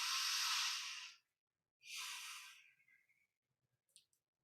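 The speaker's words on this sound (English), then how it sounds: "Breathe fully." Deep, slow breaths during yoga practice, two long airy exhales close to the mic with a pause between, then a few faint clicks and small noises in a quiet room.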